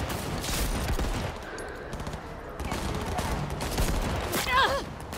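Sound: gunfire from a cop in the video game Cyberpunk 2077

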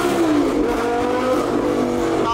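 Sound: Lamborghini V10 engine revving

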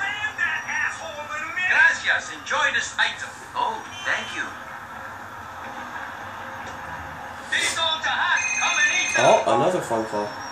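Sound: phone ringing in Grand Theft Auto IV video game

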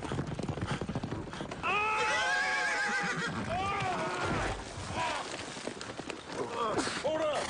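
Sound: horse neighing

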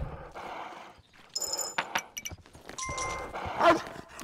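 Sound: dog barking in a video game

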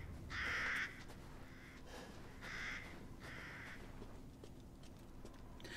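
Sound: crows cawing in the video game Resident Evil Village

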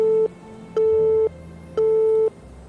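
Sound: telephone busy tone after the call signal cuts out

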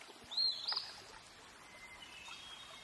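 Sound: hermit thrush call

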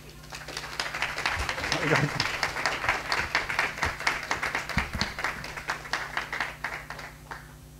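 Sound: church congregation applause

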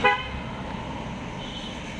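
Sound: car passing by on street

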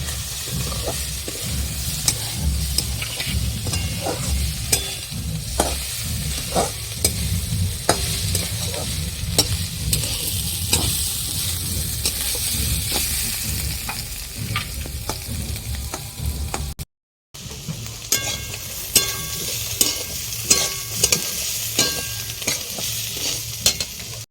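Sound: eggplant frying in a pan

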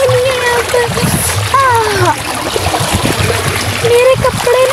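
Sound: water flowing fast in a stream

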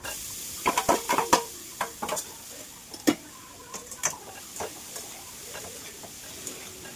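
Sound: stirring roasted ginger and garlic mixture in pan

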